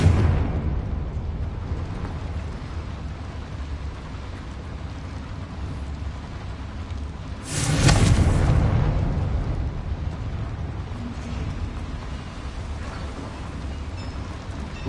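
In the Hogwarts Legacy video game, a Confringo blasting spell goes off as a single sudden, loud explosive burst midway through. A steady, rumbling ambient background runs before and after it.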